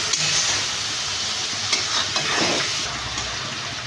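A spice paste with a spoon of sugar and a splash of water, fried and stirred in a pan for chana dal, gives a steady close sizzle with soft scraping from the stirring and no voices.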